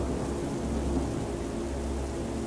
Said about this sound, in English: the valley began to fill with the sound of rolling thunder